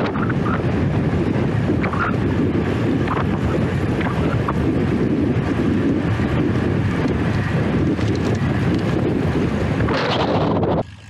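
Heavy wind buffeting the microphone on a bike ride, a loud constant rushing roar that fills the whole stretch and drops away abruptly at the end.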